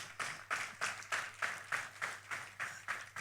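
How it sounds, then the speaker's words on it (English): Faint, slow rhythmic clapping at an investment summit, about nine even claps sounding like a small group clapping in unison, distant and soft with no talking over it. "I need us to clap for the organizers particularly"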